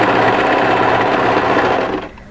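A sewing machine runs steadily, stitching a stretch band onto a pleated maxi wrap dress, then slows and stops near the end, loud and close with no talking.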